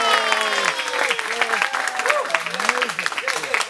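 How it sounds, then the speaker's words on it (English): An audience applauds and cheers loudly, a bright clatter of clapping with voices whooping and calling over it throughout. "they applaud really loudly when they like something"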